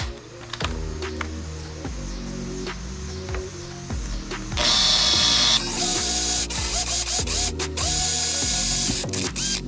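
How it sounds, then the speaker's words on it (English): A drill bores a hole in billet aluminum, with clicking and clattering mechanical noises building into a loud, sustained grinding whir midway, punctuated by sharp ticks and rattles throughout. "So, step one, drill a hole."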